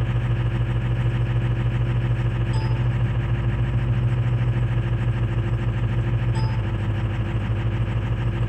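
A 2005 car engine idles steadily through a cold start, a loud, even mechanical drone with a constant low hum that holds alone without change.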